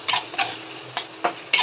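Kashmiri chilli masala being stirred in a pan, a soft continuous sizzle broken by five short, sharp scraping strokes of the spoon, close and fairly loud, with no talking.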